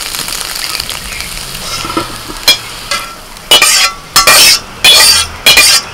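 Egg fries in oil in a wok while being stirred crumbly, a close steady sizzle broken by several loud bursts of spatula scraping and clinks against the pan.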